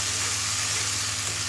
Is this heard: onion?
yes